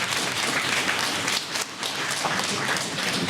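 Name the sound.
applause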